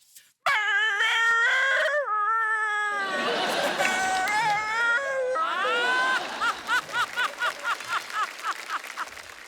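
A comedian on stage vocally imitates a dog, with long whining howls and whimpers followed by a rapid series of short yelping barks, loud and close.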